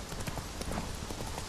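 Horse hooves clip-clop in The Witcher 3: Wild Hunt video game, a steady, rapid run of hoofbeats set against a dense, constant outdoor background.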